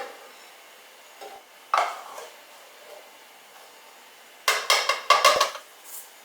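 A scoop dips into flour and knocks against a bread maker pan, making a few short clinks and scrapes between quiet pauses, close by.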